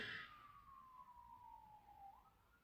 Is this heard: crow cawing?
no